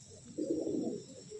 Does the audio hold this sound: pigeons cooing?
yes